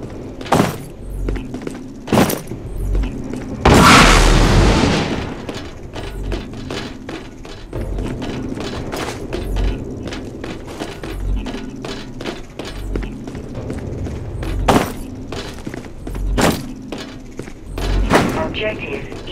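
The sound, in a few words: null cannon firing explosions in video game Dust 514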